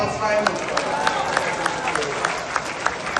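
A crowd applauds at a Christmas stand-up comedy show, a steady wash of clapping with sharper claps popping out at regular beats, filling the room at moderate loudness without a clear voice over it.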